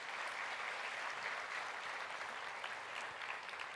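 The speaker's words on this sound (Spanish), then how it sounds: "Dale un aplauso al Señor." A church congregation breaks into sustained applause, a thick, even roar of clapping from many people filling the room for a few seconds without any speech over it.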